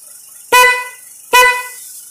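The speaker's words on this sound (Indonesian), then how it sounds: "Ini klaksonnya satu ya." Two short, loud honks from a single snail-type car horn, separated by a brief pause, with a bright, shrill, harmonic-rich tone.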